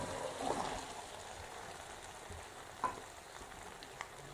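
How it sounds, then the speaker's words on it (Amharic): Potato omelette sizzling steadily in a pan, a close, continuous frying hiss with a few soft knocks and shifts of the pan, no voices over it. "ድስቱ ላይ አደርገውና ለ2 ደቂቃ አበስለዋለሁ"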